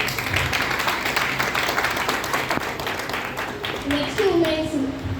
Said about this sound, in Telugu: గట్టిగా క్లాప్స్ కొట్టండి ఇక్కడ సైడ్ నుంచి.